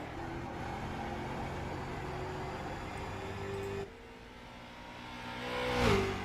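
Street stock race car in a racing game lapping the Lakeland track, a steady engine drone with harmonic tones that dips in pitch when shifting, then rises into a louder rev near the end.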